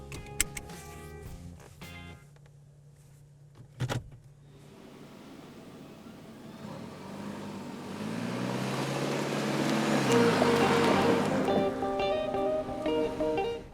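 A new Toyota Land Cruiser pulls out and drives up a street. A few mechanical clicks and thumps are followed by engine and road noise that rises steadily as it accelerates, with a broad rushing hum near the end.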